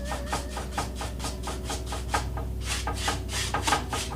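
A paintbrush scrubs crisscross strokes into the corner of a canvas, making a quick, even series of dry rubbing swishes. The strokes come close up in a steady rhythm, with one brief pause partway through.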